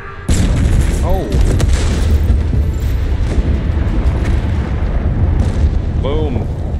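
An anti-aircraft gun is destroyed in the Halo Infinite campaign, a loud sustained explosive roar with heavy rumbling booms and debris blasts that persists throughout, a few brief voice fragments under the din.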